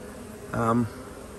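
Honeybees buzz in a hive with a queen present, a steady low hum that runs throughout, broken briefly by a louder voiced sound near the start.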